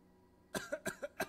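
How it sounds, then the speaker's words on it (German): A character coughs in the horror video game Death Relives: after a quiet moment, four sharp, fairly close coughs follow in quick, uneven succession, each with a harsh throaty burst, faint overall. "Wer hustet hier?"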